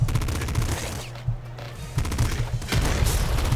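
Rapid, nearly continuous gunfire from a gun shooting regular bullets in the video game Nuclear Throne, loud and close, with dense overlapping bursts and punchy low thuds over the whole stretch.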